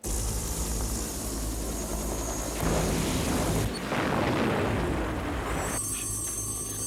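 Military aircraft strafe a palace, a continuous loud engine roar and rumble with bursts of broadband noise and a booming surge midway.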